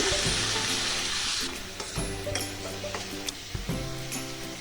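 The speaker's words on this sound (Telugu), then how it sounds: "ఇది కూడా వేసేసి మీడియం ఫ్లేమ్లో ఈ ఆయిల్లో వేగనివ్వాలి." Ginger-onion paste fries in oil over a medium flame for allam pulusu, with a loud, steady sizzle at first that drops back under a sustained tonal hum, broken by a few utensil clinks.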